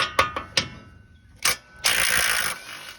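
Ratchet with an 18 mm deep socket working on a Ford Lightning truck's upper control arm, a few sharp separate clicks followed by a quick, buzzing run of ratcheting, close and clear.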